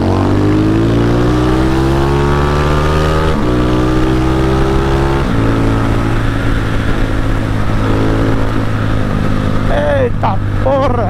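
A Honda Fan motorcycle with a damaged engine rides a highway, its loud steady engine drone rising and falling with some clattering jolts, and faint speech is heard near the end.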